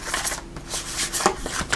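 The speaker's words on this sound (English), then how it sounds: "Let's give these one more little shuffle here." Tarot cards shuffled by hand up close, a steady stream of papery riffles and soft slaps, brief and fairly loud with no talking over it.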